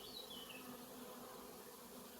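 A honeybee swarm at a hive gives a steady, dense buzzing that stays close and loud throughout, with no break in the drone.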